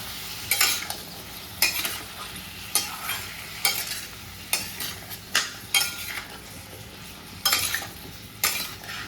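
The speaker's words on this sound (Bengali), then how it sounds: "যতক্ষণ এখানে এঁচোড় আর আলুটা ভাজা হচ্ছে" Jackfruit and potato pieces fry in a pan with a steady sizzle, broken by repeated scraping stirs of a utensil against the pan at roughly one-second intervals, close and fairly loud.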